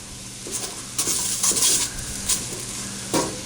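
A spoon stirring flour roux cooking in a pot for mushroom soup, with several close scraping strokes across the pot bottom over a low steady sizzle, loud and near.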